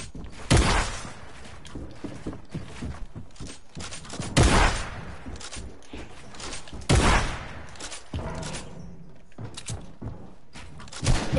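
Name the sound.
flintlock gunfire in a video game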